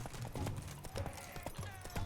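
Horse hooves clip-clopping at a gallop during mounted combat in The Witcher 3, a steady repeating thud of strides running throughout, fairly close, with no talk over it.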